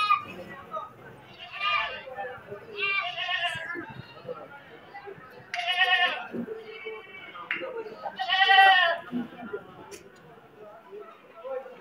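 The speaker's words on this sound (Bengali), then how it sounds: "বেশিরভাগ দেখলাম রাম ছাগল ছোট ছাগল কম আছে বড় বড় ছাগল আছে" Large ram goats bleating at a busy cattle and livestock market in Sylhet, several loud nearby bleats in bursts over crowd chatter and voices.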